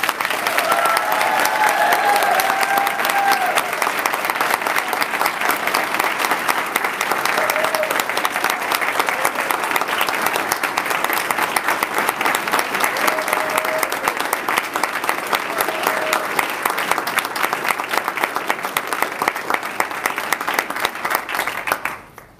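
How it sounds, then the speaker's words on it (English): A large audience claps at a detention academy graduation ceremony for a corrections class, with dense, sustained applause filling the room for over twenty seconds before tapering off at the end. "Let's give them a round of applause."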